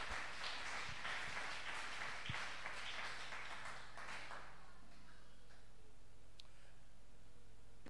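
A church congregation applauding the Lord, several seconds of soft, scattered clapping with a few sharper claps that fades out, leaving a quiet room with occasional faint ticks.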